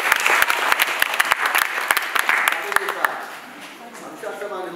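A church congregation breaks into applause with sharp, scattered claps over a busy crowd murmur, and voices are heard through it before the clapping thins near the end.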